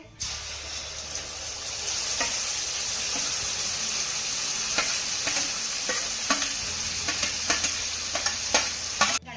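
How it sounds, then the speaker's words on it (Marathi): Grated raw mango mixture with mustard seeds and cumin frying in oil, a continuous close sizzle broken by repeated scraping stirs of a spoon against the pan. "त्यानंतर किसलेल्या कैरीचं मिश्रण यामध्ये घालायचं आहे"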